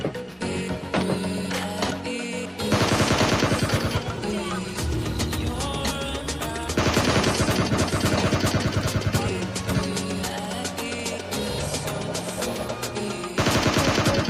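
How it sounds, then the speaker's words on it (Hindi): Dense automatic gunfire in a battle royale shooter game while bots are being shot, loud rapid bursts continuing almost without pause and swelling in several waves, no voices. "अब मुझे पीछे से कुछ बोट्स की फायरिंग की आवाज़ आ रही होती है"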